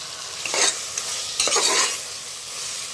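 Prawns and masala sauté in a pan, with a steady sizzle beneath a few distinct bursts of stirring and scraping, close and fairly loud, with no talking.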